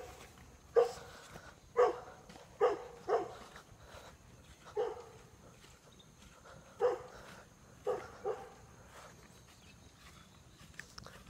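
Coon dogs in their pens bark in single loud, sharp barks spaced irregularly over a quiet outdoor background, with several dogs answering each other at moderate distance.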